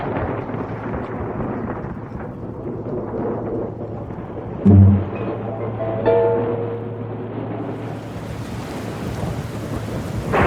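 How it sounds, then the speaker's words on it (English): Steady rain pours throughout, with a sharp close thunder crack near the middle and a second rumble shortly after, the rain hiss swelling toward the end. "But the rains came"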